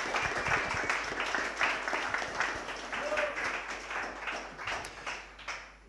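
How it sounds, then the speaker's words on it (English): An audience at a WordPress London meetup claps for the evening's speakers, moderately close and uneven, with the clapping tapering toward the end while voices murmur underneath. "They deserve a big round of applause."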